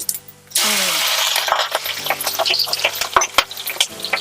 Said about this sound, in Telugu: ఆయిల్ హీట్ ఎక్కింది కదా హోల్ మసాలా అనమాట ఓకే ఇవన్నీ దినుసులు వేసేసేయాలి